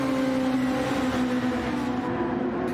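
Formula 1 race cars climb a hill in a racing video game, a sustained high engine drone with steady harmonic pitch, loud and continuous with a slight pitch shift.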